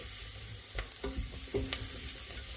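A small knob of butter sizzles in a frying pan during curry cooking, a continuous hiss broken by several scraping stirs and light clatters, close and without talk.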